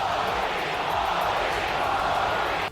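A packed crowd at Sydney Olympic Park roars in a dense, steady wash of voices, loud and sustained for the whole stretch, with the individual chanted words not distinct.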